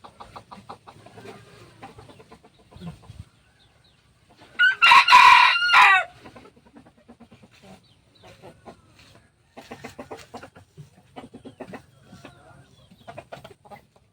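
A labuyo, a wild junglefowl rooster kept in a cage in the province, lets out one loud close crow midway, with softer clucking and scattered background sounds before and after.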